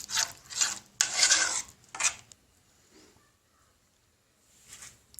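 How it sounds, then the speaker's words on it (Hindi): A flour and water paste for harera is stirred in a pot, giving close scraping, rasping strokes in a few rhythmic bursts, then quiet with one faint scrape near the end. "हिलाना है इसे अच्छी तरह।"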